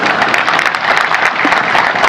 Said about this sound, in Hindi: एक बार जोरदार तालियों की गूंज